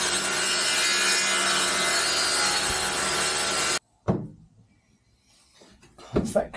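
Saw cutting timber for a window frame, a loud continuous rasping stroke that stops abruptly, followed by a couple of knocks and handling sounds.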